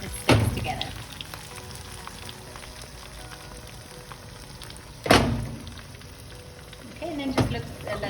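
Chickpea omelette batter frying in a pan on lowered heat, giving a steady soft sizzle throughout, with a few sharp knocks of the pan or utensil breaking through.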